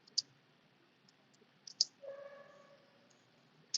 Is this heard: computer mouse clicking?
yes